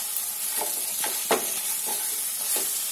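Fish head frying with spices in a pan for macher matha moong dal, a steady sizzling hiss broken by several scraping stirring strokes.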